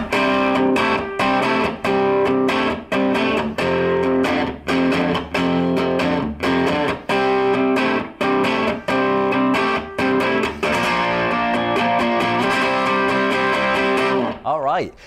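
Electric guitar playing a verse at full speed, loud driven chords strummed in a steady choppy rhythm with short gaps and a triplet strum near the end.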